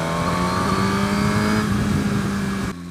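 Suzuki GSX-R1000R sport bike engine blipping through a downshift off the throttle, a loud close revving drone with shifting tones over nearly three seconds, cutting off sharply at the end.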